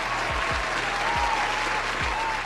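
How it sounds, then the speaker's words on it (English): A short round of applause from a crowd, continuous clapping over a steady background hum, fairly loud and close. "Give a round of applause."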